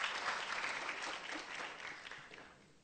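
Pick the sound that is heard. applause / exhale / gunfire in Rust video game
applause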